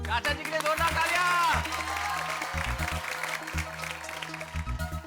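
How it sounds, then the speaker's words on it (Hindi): Jorda applause for Chacha ji at a Gokuldham society function, a steady wash of clapping mixed with crowd chatter and music, running for several seconds under a lively indoor atmosphere. "चाचा जी के लिए जोरदार तालियां।"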